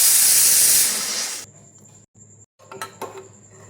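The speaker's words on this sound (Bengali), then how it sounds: "3টে সিটি দিয়ে দিয়েছি," A pressure cooker releases steam while cooking chana dal. A loud, close rushing hiss runs for about a second and a half and then cuts off. Faint metallic clinks and rattles follow.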